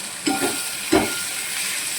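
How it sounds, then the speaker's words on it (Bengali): Fried prawns and onions are stirred in a pan, two distinct scraping strokes over a constant soft sizzle of frying. "এটা একটু নাড়তে হবে"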